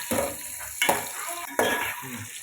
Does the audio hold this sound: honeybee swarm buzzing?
no